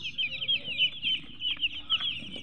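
Young chicks about 45 days old cluck and chirp continuously at close range, a busy overlapping chatter of many small birds with no talking.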